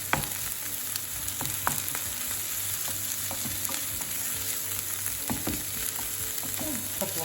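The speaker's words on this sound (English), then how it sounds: "Now we throw in our garlic and just give it a nice stir." Garlic and onions sauté in a pan and give off a steady close sizzle, with scraping and clicking from stirring scattered through it.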